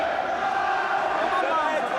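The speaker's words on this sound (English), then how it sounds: "And listen to this crowd, Jim, as well, getting behind him again." A boxing crowd cheers and roars in a dense, sustained wash of noise, with commentary voices blended into the din throughout.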